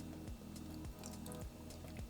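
Cold water added little by little to a bowl of cornstarch for sweet and sour pork batter, giving faint, soft wet squishes and drips in a quiet kitchen, repeated several times at a slow, even pace.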